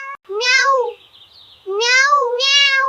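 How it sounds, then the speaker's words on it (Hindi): A cat meows loudly three times in close succession, drawn-out rising and falling calls with a brief quieter whine between them, no other sounds. "बिल्ली इधर उधर दौड़ती रही, उन्हें पुकारती रही"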